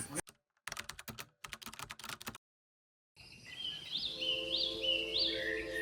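Birds call in the morning around Khemchong Para, a hill village in Bandarban, their high, repeated chirps rising over a steady outdoor hum after a run of sharp clicking and a brief silence.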